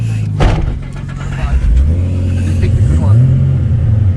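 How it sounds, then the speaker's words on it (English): A loud Nissan Skyline R32 GT-R engine rumbles and revs up and down, close by, with a sharp burst near the start and rising pitch sweeps later. "here's the raw sound of the R32 GTR"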